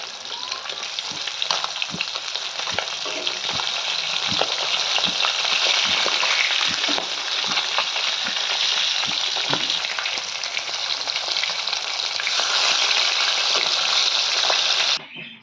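Cumin seeds and potato pieces fry in hot oil for a rohu fish curry, a loud, steady sizzle with crackling pops that continues unbroken throughout, with no voices.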